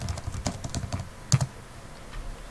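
Quick bursts of key presses on a computer keyboard on Windows 10, a close, uneven patter of clicks with one louder keystroke near the middle.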